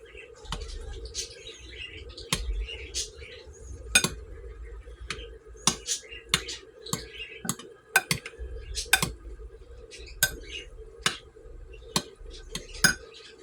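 Drained canned peas get mixed into a tuna casserole with a utensil that knocks against the dish in regular, crisp clicks roughly every second, close up over a low steady background hum.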